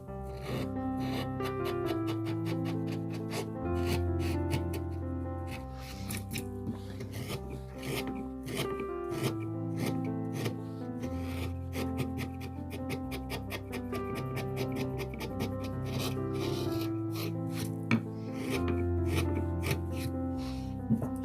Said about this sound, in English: Sometimes I use that little corner over here, that part of the chisel, and I kind of clean with the edge.